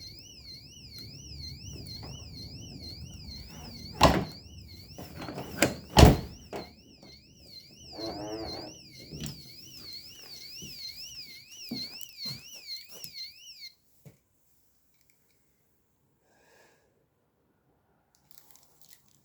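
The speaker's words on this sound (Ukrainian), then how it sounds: "Вже включилась сигналізація." A car alarm wails with a rapidly warbling siren tone for about fourteen seconds during a rescue operation, broken by a couple of sharp clunks, then cuts off to near silence.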